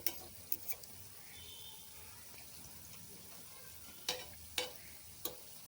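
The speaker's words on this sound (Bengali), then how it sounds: "বড়াগুলোকে খুব সুন্দর করে গোল্ডেন কালার করে ভেজে নিয়েছি" Mango fritters frying in hot oil in a pan, a soft, faint continuous sizzle with a few sharp clicks and taps of a utensil scattered through it.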